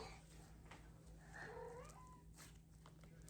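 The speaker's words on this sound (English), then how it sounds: "If you hear that meowing, it's just my cat" A cat gives a single drawn-out meow, fairly faint, over a quiet background hum.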